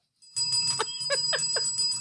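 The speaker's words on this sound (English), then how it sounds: "What does that bell need to be rung for?" A small bell rung repeatedly into a podcast microphone, several bright rapid dings in quick succession over a low background hum.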